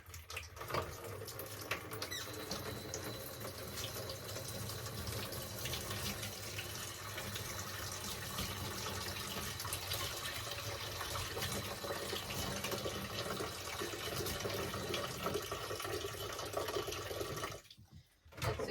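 Water pours steadily into a worm compost bin of bedding, a continuous close splashing and trickling that fills nearly the whole stretch before cutting off abruptly near the end.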